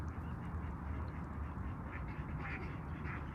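Ducks quacking over a constant watery, breezy background, several short calls scattered through a few seconds.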